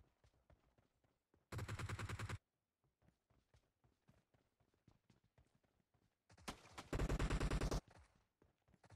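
Two loud bursts of automatic gunfire in PUBG, each close and about a second long, separated by quieter in-game footsteps and clatter.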